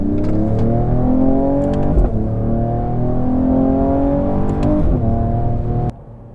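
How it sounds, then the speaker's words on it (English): A 2022 Mercedes E53 AMG coupe engine revs hard and climbs in pitch through the gears, with brief breaks at each shift before dropping off sharply at the end. "I can hear the engine is screaming and is asking for more."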